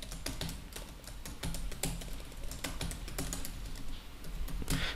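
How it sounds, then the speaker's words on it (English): Fingers tapping a computer keyboard while entering a Wi-Fi network name, a quiet, close run of irregular clicks in short bursts with small pauses. "now you need to type the SSID"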